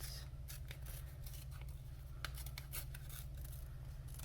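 Scissors trimming a fabric paw shape, a run of quick, soft close-up snips repeated in a loose rhythm over a low steady background hum, with no speaking.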